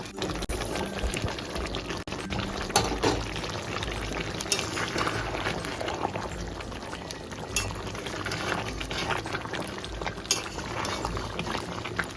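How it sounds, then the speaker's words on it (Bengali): Chicken curry with peas and sour yogurt bubbles and sizzles steadily in a pan as fried potatoes are added, a dense, continuous simmer with occasional clinks and splashes close by. "এইবার উপর থেকে দিয়ে দেবো ভেজে রাখা আলুগুলো, তাহলে আলুগুলোও কিন্তু সেদ্ধ হয়ে যাবে"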